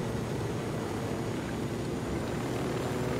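A helicopter in the shooter game Ghost Recon Wildlands gives off a steady, loud rotor and engine roar that fills the soundscape evenly, with no talk.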